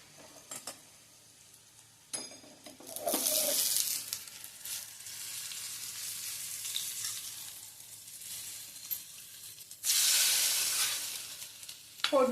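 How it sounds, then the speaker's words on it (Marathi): Hot spice tempering with asafoetida and turmeric poured over a buttermilk bhakri, giving loud bursts of sizzling hiss near 3 s and again near 10 s, with quieter crackle and faint utensil clinks between. "आणि ही फोडणी ह्यावर घालायची"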